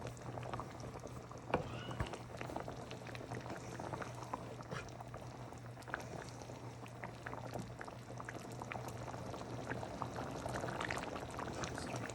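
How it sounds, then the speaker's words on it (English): Matar paneer curry simmers and bubbles in a pan on a gas stove, a steady soft boiling hiss with faint pops and bubbling throughout, no voices. "So we're gonna let this boil for about another 2 minutes or so."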